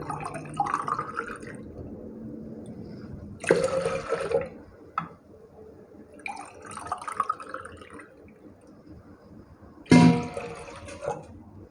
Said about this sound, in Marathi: आपण डाळ शिजवण्याची डाळीमध्ये पाणी टाकूया